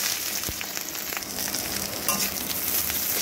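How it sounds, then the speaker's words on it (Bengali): Chopped onion frying in hot oil with fenugreek seeds and dried red chillies, a steady close sizzle with light stirring scrapes, no voices. "পেঁয়াজটাকে হালকা করে একটু ভাজা ভাজা করে নেব।"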